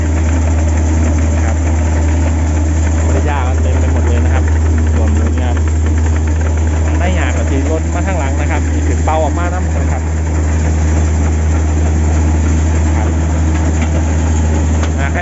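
An engine-driven rice grain blowing (winnowing) machine runs steadily with a loud, constant low hum and clatter throughout, while someone talks over it nearby.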